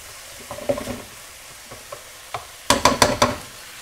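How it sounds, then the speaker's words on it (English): Ground meat sizzles quietly in oil in a frying pan for Bolognese sauce while a utensil scrapes and stirs in short bursts, a louder flurry of scraping near the end. "Put the oil in your frying pan before you put your meat in."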